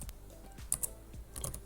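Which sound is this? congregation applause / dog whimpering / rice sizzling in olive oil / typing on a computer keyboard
typing on a computer keyboard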